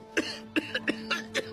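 Several people cough in short, separate bursts, six sharp hacks spread over a moment at moderate loudness, in the smog-choked town of the animated film The Lorax.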